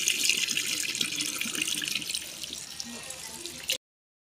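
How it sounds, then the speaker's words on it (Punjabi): Tap water runs over mulberries being washed, a steady hissing stream with light splashing at moderate loudness that stops abruptly near the end. "ਹੁਣ ਇਹਨੂੰ ਧੋਂਦੇ ਹਾਂ, ਥੱਕ ਜਲਦੀ ਕਰ ਇਹਨੂੰ ਧੋਵੇ।"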